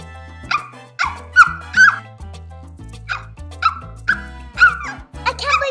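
A dog barks in a series of sharp, close yips and woofs with short pauses between them, some sounding slightly whiny.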